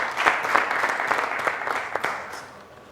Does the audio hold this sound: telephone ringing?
no